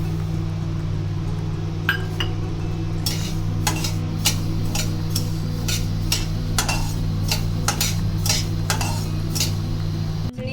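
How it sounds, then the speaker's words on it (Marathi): Finger millet is dry-roasted in a metal kadhai, with a utensil clinking and scraping against the pan in quick, irregular strokes over a steady low hum, and no talking. "आता पुन्हा एक वाटी नाचणी जी आहे ती आपल्याला कढईमध्ये व्यवस्थित भाजून घ्यायची आहे"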